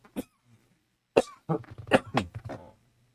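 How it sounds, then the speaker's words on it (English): A man coughs several times: a single short cough, a pause, then a burst of harsh, close coughs and throat-clearing in quick succession, with no speech. "See, the cough still resides a little bit, just a little bit."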